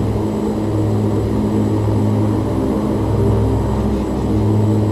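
OV-10 Bronco twin-turboprop engines in a VR flight simulator, a loud steady propeller drone with constant tonal hum throughout, no voices.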